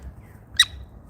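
A single sharp squawk from a parrot, very brief and fairly close, rises out of a quiet room with a low background hum.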